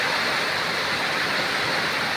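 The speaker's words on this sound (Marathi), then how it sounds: "जोरदार पावसानं आगमन केलेलं आहे." Heavy rain pours down in a dense, steady hiss with no breaks and no voices.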